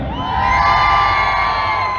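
A festival crowd at a manga and Japanese culture event in Amiens cheers and shouts in one loud sustained roar, with high voices carrying over the din.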